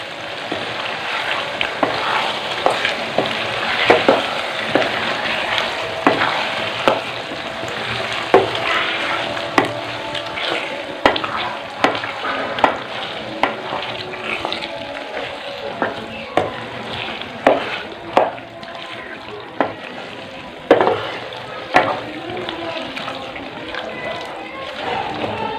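Aloo palak, potatoes with pressure-cooked spinach, sizzles steadily in a pan while a spoon stirs it, leaving repeated scraping clacks over the bubbling, with no talking.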